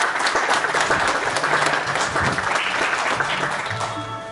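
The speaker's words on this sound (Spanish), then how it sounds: "Un fuerte aplauso" Sustained applause from a graduation ceremony audience at a secondary school, dense and steady throughout, with a faint voice or tone beneath it near the end.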